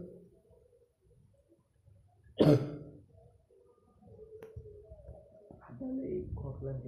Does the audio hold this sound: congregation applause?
no